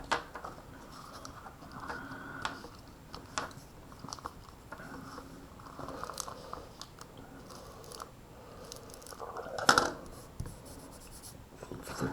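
A pen draws a line on a graph during a math lecture on cosine functions, giving soft scratchy writing strokes with small taps and one sharper scrape near the end, close and quiet, no talking.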